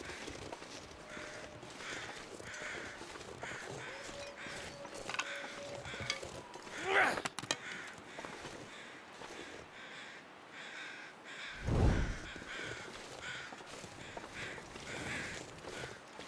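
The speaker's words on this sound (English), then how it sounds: "I'm going to check out what these birds are going on about." Crows caw a few times in the survival game The Long Dark, mid-distance over a steady wind-like backdrop, with a couple of sharp calls standing out and occasional footstep-like crunches.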